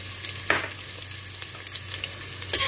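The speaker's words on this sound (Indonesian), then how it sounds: "Ini digoreng sampai layu." Shallots fry in hot oil for a spiced Saudi Bukhari rice dish, giving a steady, even sizzle with a couple of brief stirring scrapes, close and alone.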